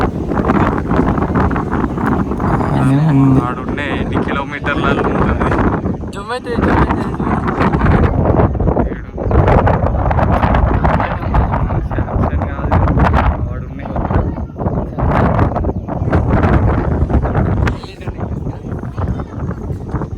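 Wind blasts roar into the microphone during a bike ride to Ananthagiri hills, a constant low buffeting that rises and falls beneath people talking throughout.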